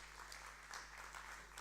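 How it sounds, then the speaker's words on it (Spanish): Brief, faint applause greets guests entering a Spanish biotech venture-capital event, a soft spread of clapping over a low electrical hum. "Les damos un fuerte aplauso, por favor"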